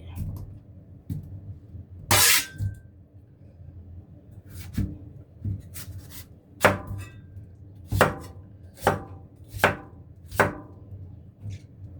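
Papaya being cut with a knife on a board for a Chinese herbal pork tenderloin vegetable soup, a series of sharp, irregular chops, close and clear, with no talking.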